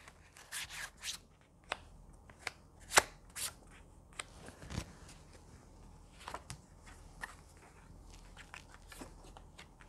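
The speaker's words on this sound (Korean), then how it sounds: "자, 조금 더 구체적으로 알아보기 위해서 제가 추가 카드를 뽑아보도록 할게요." Tarot cards shuffled and drawn during a reading, giving soft, quiet riffling, rubbing and light slapping sounds with scattered sharp taps, close by and with no voice.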